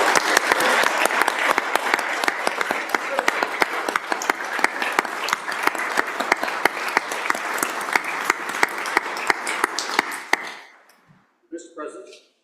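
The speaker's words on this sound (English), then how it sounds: "Let us all give you a round of applause." A round of applause on the Senate floor for veterans standing in the chamber, a sustained wash of many hands clapping that fades out near the end, followed by a brief murmur.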